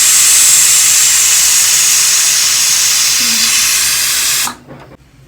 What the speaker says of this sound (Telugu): 3 విజిల్స్ అయిపోయినాయి, కుక్కర్ ఆఫ్ చేస్తాను